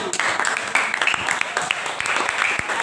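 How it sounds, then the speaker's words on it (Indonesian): Steady applause from a classroom of schoolchildren after a group presentation, clapping continuously with scattered sharper claps and some voices mixed in. "Tepuk tangan."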